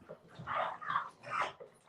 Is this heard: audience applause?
no